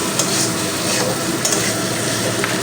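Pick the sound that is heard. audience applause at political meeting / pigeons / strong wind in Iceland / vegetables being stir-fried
vegetables being stir-fried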